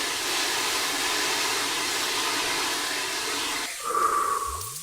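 Continuous loud hissing spray from a video game fire sprinkler system, like water jetting from sprinklers, broad and steady, with a brief rising tone near the end.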